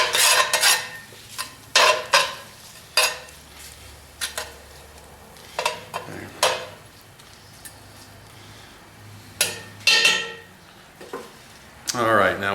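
A utensil scrapes and stirs garlic powder and salt into bacon in the bottom of a Dutch oven, making a series of sharp, irregular scraping strokes close by, with quieter gaps between them.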